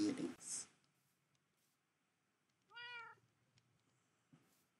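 A cat in the video game Minecraft gives a single clear meow midway, fairly near, after someone talks briefly at the start; the rest is quiet.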